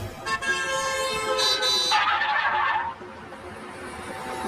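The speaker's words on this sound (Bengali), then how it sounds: "ওই গাড়িটা হর্ন বাজাচ্ছে কেন?" A car horn honks in several sustained blasts, loud and close, cutting off abruptly, with faint street noise continuing afterward.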